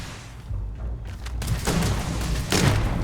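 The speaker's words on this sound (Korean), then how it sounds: "이머전시 총소리 들리죠?" Gunfire in the space video game Starfield during a fight with syndicate guards, heard as muffled booms and thuds in a steady busy mix, with a heavier burst near the end.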